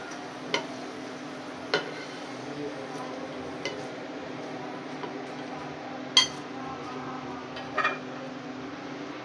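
Fried golden cauliflower lifted out of a hot pan for aloo gobi, with scattered metallic clinks of a spoon against the pan over a steady low background sizzle, sparse and fairly quiet.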